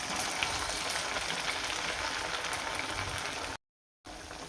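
Four sabudana vadas frying in hot oil on a high flame, producing a dense, continuous bubbling sizzle with faint crackles, broken by a brief total silence near the end before the frying resumes.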